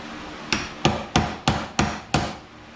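Six heavy, evenly paced hammer blows drive a bearing out of a Cub Cadet RZT-54 zero-turn mower deck, each impact close and ringing briefly, with no talking.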